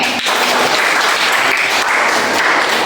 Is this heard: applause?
yes